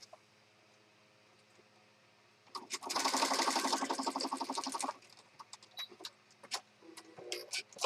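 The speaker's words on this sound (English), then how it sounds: "So I just stitched across that." Sewing machine stitching across the pages of an oversized blue and pink journal, a steady close two-second buzzing run after quiet, followed by scattered light clicks and handling taps.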